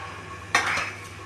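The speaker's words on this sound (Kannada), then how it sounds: "ಇದನ್ನು ಹಾಕ್ಕೊಂಡು ಚೆನ್ನಾಗಿ ಫ್ರೈ ಮಾಡಬೇಕು" A metal utensil clinks against a pan as whole star anise, cinnamon and cloves go into hot oil for mushroom biryani, followed by a short burst of scraping and light sizzle.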